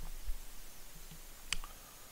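A computer mouse gives a couple of faint, sharp clicks against quiet room noise, close and isolated with no talk.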